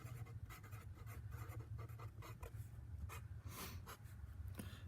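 Pen or pencil writing on paper, close and quiet, with steady scratchy strokes and short pauses between them.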